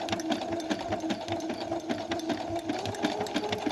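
A Brother CS7000i computerised sewing machine stitches fabric in a fast, steady, even run of needle strikes that is close and continuous, with no voices.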